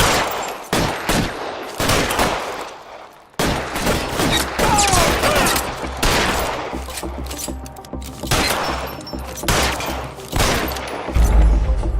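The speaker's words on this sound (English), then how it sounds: "A 211 is shots fired, 410 South Flower Street." Heavy gunfire in a shootout from the video game L.A. Noire, with repeated bursts and booming shots in dense, loud volleys across the whole stretch, broken by brief pauses.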